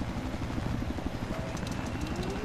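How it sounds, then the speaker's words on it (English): A helicopter in the Battlefield 4 video game sounds as a steady, dense rotor chop with rapid thudding beats throughout, loud and continuous. "Oh, no. No, the chopper."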